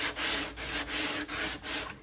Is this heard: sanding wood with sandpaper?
yes